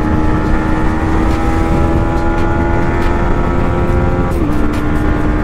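A 2022 Yamaha MT-15 v2.0 motorcycle at high speed, its loud, close engine drone holding steady before the pitch dips briefly near the end.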